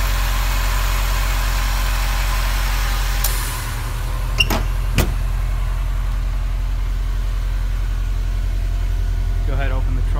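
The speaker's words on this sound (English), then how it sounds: "There's your Subaru engine right there." A 2016 Subaru WRX's compact engine idles steadily with a low, even rumble, heard up close while people talk over it and a couple of sharp clicks sound midway.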